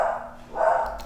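Two short, loud barks from a dog come in quick succession, with no talking in between.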